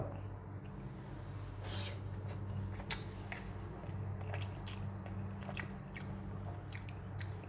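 Lunch rice being mixed with fish curry by hand gives soft, wet squishing and sticky clicks in a steady, quiet rhythm close by.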